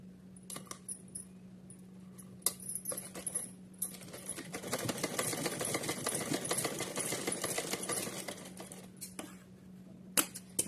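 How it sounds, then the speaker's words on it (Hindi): A sewing machine stitches gota trim onto a small doll dress, with a steady motor hum and a dense, rapid run of needle clatter building in the middle, framed by scattered clicks and handling knocks, close and fairly quiet. "हम ये गोटा लेंगे और इसको ऐसे रखते हुए एक साइड सिल लेते हैं।"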